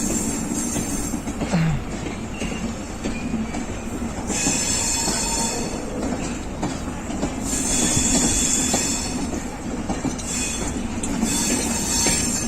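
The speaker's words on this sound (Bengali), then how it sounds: "কপোতাক্ষ এক্সপ্রেস ছেড়ে যাচ্ছে" Kapotaksha Express pulling out of a junction station in Bangladesh: a continuous loud rumble of wagons with rhythmic wheel clatter and recurring high metallic squeals, close by and steady throughout, with no talking.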